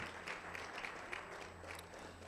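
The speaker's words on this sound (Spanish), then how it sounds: "Dele ese aplauso a nuestro Señor" A church congregation applauds during a worship service, the clapping soft and distant over a steady low hum, with no voices standing out.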